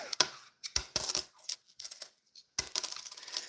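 Canadian copper pennies, including a 1984 coin, clink and rattle close by as they are dropped and sorted by hand, with bursts of bright metallic jingling separated by short pauses.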